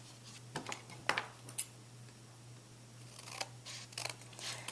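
Scissors snipping through stacked cardboard while cutting parts for a papier-mache armature, a few sharp crisp cuts scattered through a quiet room with a steady low hum underneath.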